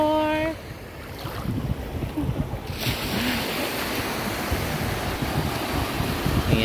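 Sea waves wash steadily onto the shore at Kite Beach at low tide, a continuous broad surf rush with wind buffeting the microphone throughout, after a brief voice at the start.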